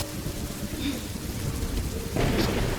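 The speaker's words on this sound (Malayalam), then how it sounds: "കാലം തെറ്റിയൊരു മഴ." Steady rain hisses down throughout, and a deep roll of thunder swells near the end, rumbling close and loud over the downpour.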